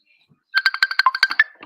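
A phone rings with an incoming call, a bright melodic ringtone of quick repeated tones, loud and close, starting after a short silence and trailing off at the end.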